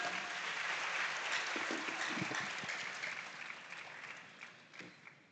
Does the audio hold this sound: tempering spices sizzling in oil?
no